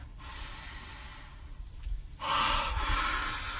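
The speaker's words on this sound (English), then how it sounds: "let's take a deep breath together" A slow, deep inhale followed by a louder, forceful exhale, close and breathy, during a guided breathing exercise.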